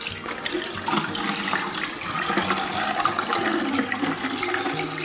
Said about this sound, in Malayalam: ഇതിലും അതുപോലെ വെള്ളം നിറക്കാൻ പോവാണ്.